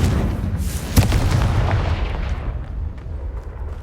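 A Confringo fire spell detonating in the Hogwarts Legacy video game, a loud, close, rumbling blast with a sharp crack near the start and a long booming tail that fades slowly, no talking.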